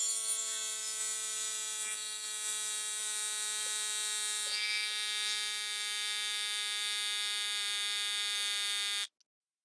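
A portable motorcycle tire inflator pump runs with a steady, loud, tonal electric buzz for about nine seconds and then stops abruptly when it shuts off.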